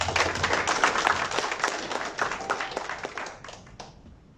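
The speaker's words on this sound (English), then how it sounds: "So let's give him a warm round of applause." Applause from a small crowd at an association's annual general meeting, brisk clapping that keeps going and then gradually tapers off toward the end.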